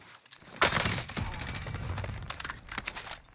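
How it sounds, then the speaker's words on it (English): Rapid gunfire in Warzone rattles in a dense burst after a sharp opening shot, then continues in scattered quick pops and volleys at moderate distance, with faint voices under it. "Still shooting at him."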